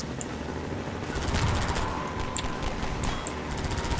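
Steady rapid gunfire in the Half-Life 2 video game from a gun with regenerating infinite ammo, a dense rattle of close shots over a rumbling backdrop.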